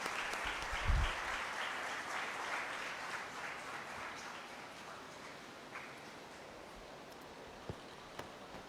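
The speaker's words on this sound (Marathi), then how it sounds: "टाळ्या वाजवून आपण त्यांचं स्वागत सर्वजण करूया" A congregation at a confirmation church service in Pune claps to welcome the pastor, a soft, diffuse patter of applause heard from a distance that fades gradually, with a few sharper knocks near the end.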